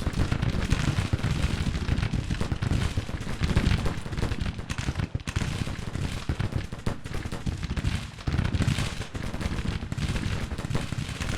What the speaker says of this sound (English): Cannons are already firing down on the enemy.